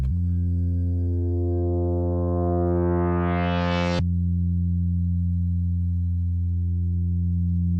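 A steady Eurorack modular synthesizer tone with a long, slow swelling attack whose upper harmonics brighten gradually, cutting off abruptly midway, then a plainer low drone holds alone.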